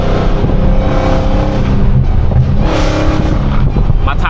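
A Dodge Hellcat engine revs hard with wheelspin, a loud, close, continuous roar that rises and holds.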